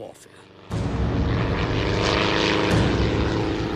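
A propeller airplane engine starts abruptly after a quiet moment, then drones steadily and loudly as the aircraft flies by, the roar holding strong to the end.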